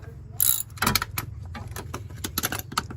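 A ratchet works on a bolt on a Toyota 4Runner, giving quick close clicking bursts, a louder grinding pass, then rapid irregular ticks over a quiet background.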